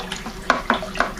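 Bentonite being stirred into Merlot wine kit must in a primary fermenter: rhythmic swishing with three distinct scrape-like strokes of the spoon against the bucket, close and steady, with no talking.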